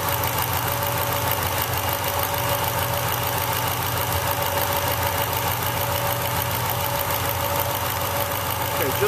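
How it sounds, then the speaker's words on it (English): A car engine idles steadily during an oil separator test, a continuous mid-pitched hum with a faint knocking pulse, loud and close with no pauses. "I'm going to let this sit here and leave the engine running"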